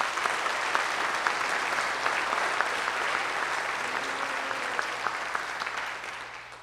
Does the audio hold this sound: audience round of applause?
yes